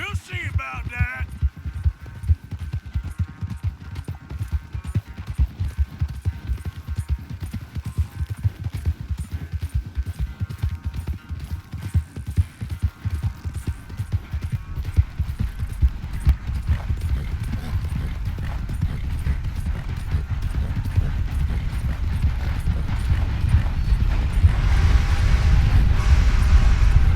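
Galloping horse hoofbeats in Red Dead Redemption 2 during a race, a steady rapid clip-clop that runs throughout, loud and close, swelling toward the end with game ambience beneath.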